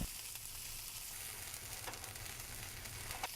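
Onions, garlic and tomato cooking down in a pan on low heat, a soft continuous sizzle with a couple of faint stirring scrapes, quiet and steady, no voices.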